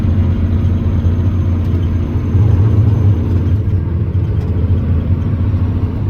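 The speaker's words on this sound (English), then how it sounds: "Start putting my engine brake on so they're slowing down." A day-cab dump truck's diesel engine drones low and steady from inside the cab as the engine brake slows it, a constant rumble with a slight swell midway and no talk.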